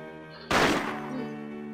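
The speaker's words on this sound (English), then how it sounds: "He fires and then the lens of the security camera in the room shatters to pieces, accompanied by the ear-splitting sound of gunfire" A single sharp gunshot from a detective's pistol in Persona 4 Arena Ultimax, shattering a security camera lens near the ceiling; one loud, close burst erupts over a steady background tone and decays slowly into a lingering ring.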